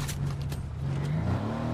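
A video game car's engine drones continuously and fairly loud, with its pitch rising slightly as it accelerates. No one speaks over it.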